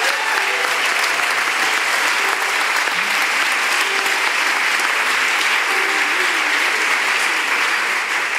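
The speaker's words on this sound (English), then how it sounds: "Can we give them a round of applause" A large audience at a concert honoring dreamer immigrants and refugees gives a steady, dense round of applause that fills the whole stretch at an even, loud level.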